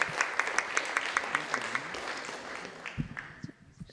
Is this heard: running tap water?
no